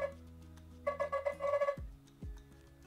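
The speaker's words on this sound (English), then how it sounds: "You click on play sound and this is going to ring." An Android phone in silent mode rings after being triggered remotely, giving a close, loud, steady electronic ringtone with repeating tonal bursts and a couple of low swooping tones near the end.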